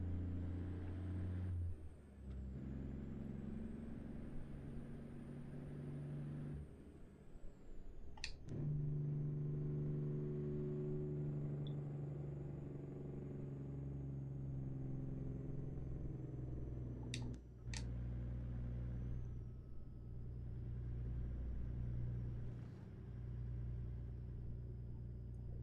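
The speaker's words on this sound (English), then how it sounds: "Ooh, this engine is loud." A heavy truck engine drones loud and steady from inside the cab on a highway haul, a deep constant rumble with brief sharp hisses and clanks cutting through now and then.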